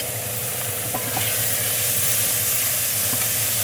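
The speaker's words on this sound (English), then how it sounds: "Listen to that sizzle." Loud, continuous sizzling from a roux in a hot pan while a spoon stirs, with a few soft scrapes early on and no voices.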